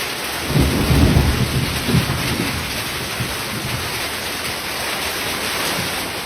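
Heavy rain pours steadily while deep thunder rumbles loudly near the start, then fades into a continuous roar of rainfall.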